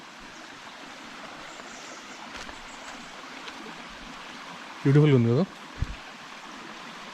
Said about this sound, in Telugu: ఈ జలపాతాలు చూడండి